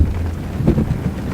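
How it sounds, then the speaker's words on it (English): Rain patters on a car during a driving lesson on an uphill road, a brief steady wash of drops with a low rumble beneath, close and fairly loud. "it's raining. It's raining."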